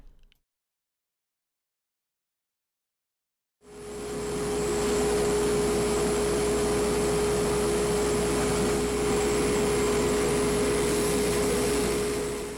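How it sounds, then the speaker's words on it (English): Sanding a wooden slimline pen with 800 grit sandpaper, likely on a running lathe: after about three and a half seconds of silence a loud, steady whirring drone with a constant hum starts and holds unbroken to the end, with no talking. "I'm using 800 grit sandpaper here."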